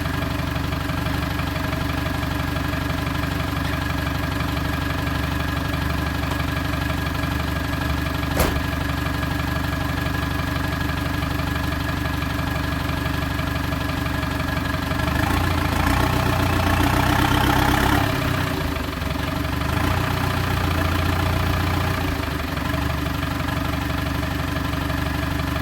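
A British classic barn-find car idles with a steady, unbroken engine drone, turning briefly rougher and louder partway through before settling back.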